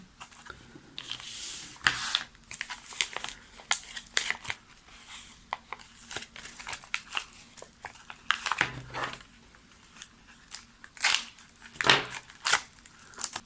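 A miswak stick's plastic package being torn open, with close, irregular crinkles and crackles of the wrapper in short bursts throughout.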